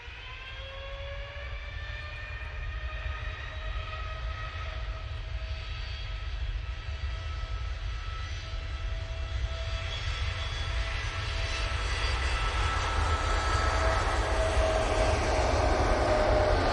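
TUI Boeing 787 Dreamliner jet airliner at Manchester Airport, its engines giving a steady whining roar with sustained high tones over a deep rumble, swelling gradually louder as it nears, with no talking.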